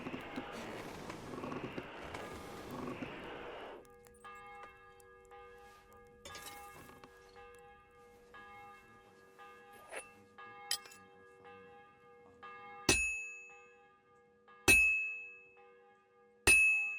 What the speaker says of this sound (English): Bell's ringing for Hans the 5th time.